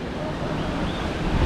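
Water pours over Kodiveri Dam in a continuous broadband rush, steady and fairly loud, with some wind buffeting the microphone.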